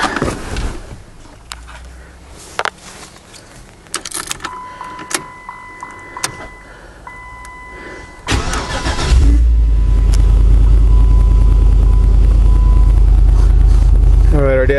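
A Jeep JK with a swapped LS engine cold-starts at 15 degrees, first some clicks, whirs and faint talk, then the starter catches and a loud steady idle roars on to the end.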